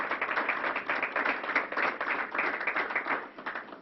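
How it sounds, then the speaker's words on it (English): A small room of people claps briefly for a county executive at a New York COVID briefing, a short burst of close, uneven handclaps with a slightly pulsing rhythm. "I want to give you a round of applause"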